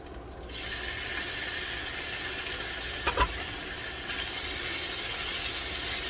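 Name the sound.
frying frozen okra in oil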